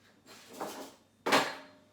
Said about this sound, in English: she's just knocked my plant that was on the windowsill into the sink